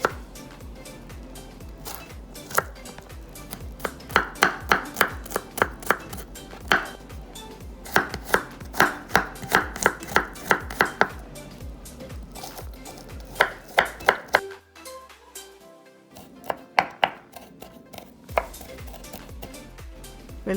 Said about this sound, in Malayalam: ഇനി ഞാൻ വെളുത്തുള്ളി ചെറുതായിട്ട് അരിയുകയാണ്.